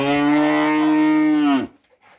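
A single long, loud cow moo close by from cattle being shown for sale, holding steady for about a second and a half before cutting off, followed by faint background noise.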